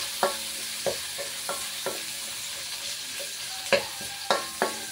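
Onion and ginger sauté in a pan for chicken tinola, a steady sizzle broken by sharp scraping stirs at an uneven rhythm, close up with no talking.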